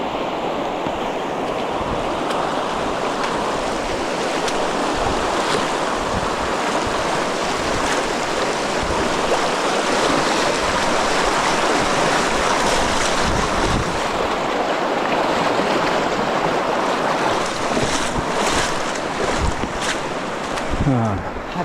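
Strong river current rushing over rocks at a crossing, a broad, steady roar of churning water filling the scene without a break, with wind buffeting the microphone.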